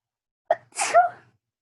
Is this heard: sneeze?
yes